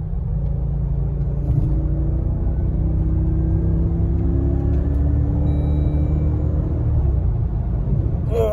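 Jeep Grand Cherokee with a freshly replaced radiator, its engine rumbling steadily on a test drive, a low continuous drone with gentle pitch rises as it pulls along, heard from inside the vehicle with no talking.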